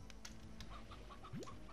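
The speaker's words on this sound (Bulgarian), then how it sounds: "Кокошката. Безполезно създание." A chicken in the video game Slime Rancher gives a few short, faint clucks over a quiet game soundscape, with no talk.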